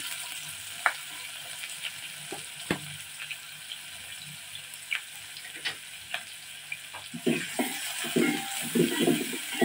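Sliced onion drops into hot oil in a home kitchen for a vegetarian pea dal: a steady close sizzling hiss with scattered pops and crackles that grow busier and louder toward the end, with no voices.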